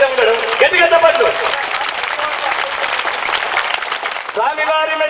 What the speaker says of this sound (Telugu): ఏమంటే మీ చప్పట్లు గట్టిగా చప్పట్లు.